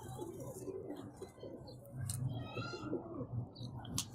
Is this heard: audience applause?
no